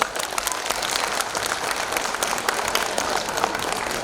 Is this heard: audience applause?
yes